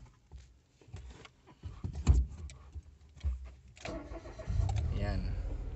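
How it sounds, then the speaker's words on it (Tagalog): A car engine cranks and catches, then settles into a steady idle for the last couple of seconds, with someone talking over the starting attempt and low thumps beforehand. "So start natin tong makina."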